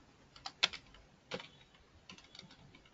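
A computer keyboard is used to type code while setting up Azure blob storage. A few faint, scattered keystroke clicks sound close by in a quiet room, with no voices.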